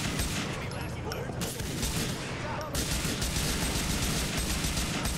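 Rapid, sustained gunfire in Grand Theft Auto IV, a dense barrage of overlapping shots filling the whole stretch, loud and close, with voices talking underneath.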